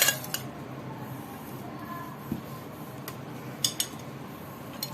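Fried eggs tipped into rice in a pan, soft shuffling and a few light metallic clinks of a spoon against the pan over a quiet background hiss.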